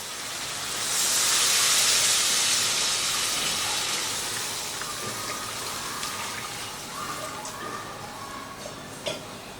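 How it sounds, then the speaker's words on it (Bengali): Water poured into hot, fully fried spice paste for a green-banana kofta curry, giving a loud, broad steamy hiss that swells early and then slowly fades into a softer sizzle. "এবারে এর মধ্যে দিয়ে দিচ্ছি পরিমাণ মতো জল"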